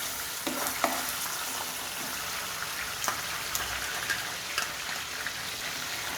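Steady crackling sizzle of ginger garlic paste frying in hot oil, with occasional sharper pops and a light stirring scrape, close up and continuous.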